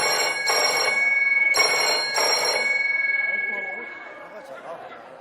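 A studio telephone rings in bursts of loud electronic trilling, three clear rings in quick succession, then fades as a voice starts speaking over the background.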